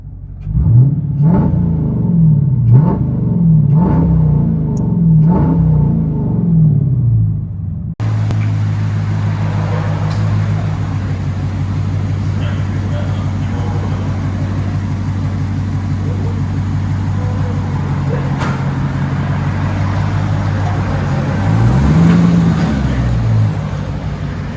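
A 2013 Dodge Challenger R/T 5.7L HEMI with straight-pipe dual exhaust, heard from inside the cabin: first several sharp rev blips, then a steady deep, loud exhaust drone while driving, swelling near the end; no one talks.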